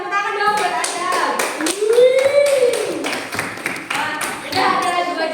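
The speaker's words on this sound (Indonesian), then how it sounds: "Tepuk tangan dong buat Azam." Classroom of primary school children claps for a student, a loud, rhythmic run of quick claps close by, mixed with children's voices and chatter.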